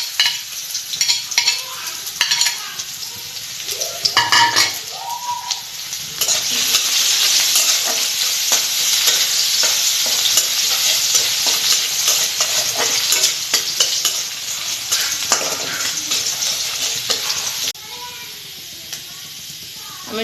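Chopped garlic and ginger sizzling in a little hot oil, a loud steady frying hiss with stirring scrapes, preceded by a few seconds of quieter kitchen clatter.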